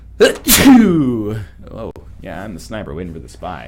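A sharp sneeze bursts out near the start, loud and close, followed by someone talking casually during a relaxed group conversation.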